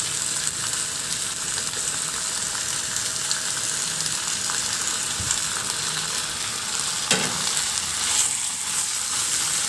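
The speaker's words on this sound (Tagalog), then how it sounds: "Maglagay na rin ako ng tomato sauce." Tomato sauce going into a pan of frying pork pata brings a loud, continuous sizzle with faint stirring scrapes, and no one speaks.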